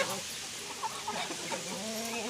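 Chickens and a duck that had been sitting on eggs feed on grain in the morning, giving soft scattered clucks and short calls close by over a low farmyard background.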